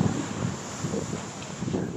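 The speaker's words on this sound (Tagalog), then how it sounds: "Malakas na hangin naman ang kasabay ng ulan sa bayan ng Bani sa Pangasinan." Strong typhoon wind with rain battering the town of Bani in Pangasinan, a steady roaring rush buffeting the microphone, loud and continuous with no voices.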